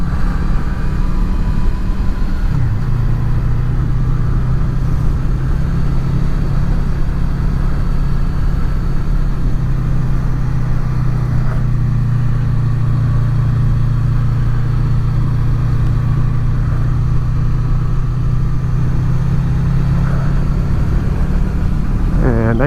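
A Honda VFR800 motorcycle engine drones steadily while riding, a loud constant low hum with wind rush running throughout, the pitch holding level with slight shifts near the start and end.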